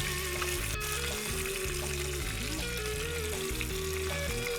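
Pieces of meat fry hard in hot oil inside a pot, a steady close sizzle and crackle running continuously with a low bubbling undertone.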